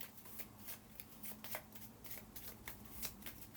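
A deck of cards is riffled and shuffled close up during a board game, giving quick, repeated papery flutters and snaps at low volume with no talking.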